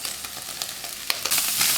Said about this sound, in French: vous rajoutez le beurre, rajoutez les oignons